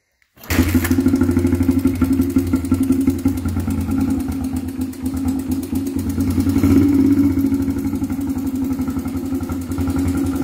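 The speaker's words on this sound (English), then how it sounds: "Look how nice that bike runs, man. What a beautiful, beautiful XR80." Honda XR80 motorcycle started completely cold without choke. The engine catches at once and settles into a steady, close, loud idle with a slight rise in revs partway through.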